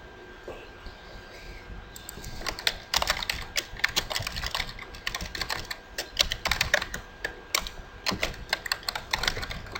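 Rapid bursts of keystrokes on a computer keyboard while a password is entered, starting softly and then coming in quick close clusters with brief pauses between them, with no speech.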